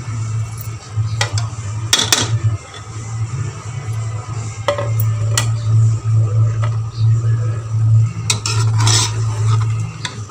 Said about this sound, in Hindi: अब इनको हम अच्छी तरह से भून लेंगे।